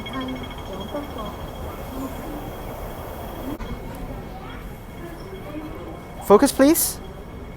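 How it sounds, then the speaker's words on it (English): An underground metro train rumbles into Hang Hau Station platform, followed by sharp wheel squeals near the end; a person speaks briefly amid the background noise. "train to North Point is arriving"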